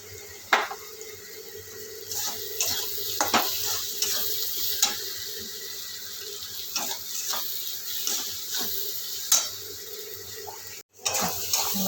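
Spice masala for a home-style tarka fries in a pan and is stirred with a spoon. Repeated scraping strokes cut through a steady soft sizzle, with an occasional louder clink of the utensil against the pan.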